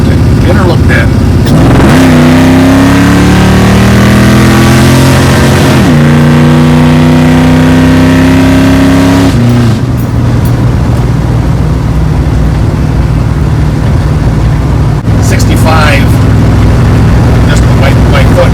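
A 1973 Dodge Dart Swinger engine held at light throttle gives off a loud, close whine that climbs and shifts in pitch over a steady mechanical drone, continuing without a break.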